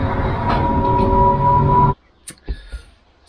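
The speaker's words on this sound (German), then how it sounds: "So, meine Straßenbahn kommt an." Tram rumbling loudly as it pulls into a stop in Saxon Switzerland, a steady mechanical roar with a tonal whine that cuts off abruptly, followed by a few brief thuds and clicks in near silence.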